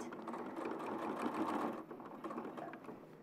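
A sewing machine stitching fabric along an existing stitch line on a sewing show, a soft steady whirring run of rapid stitches that pauses briefly and then resumes more faintly.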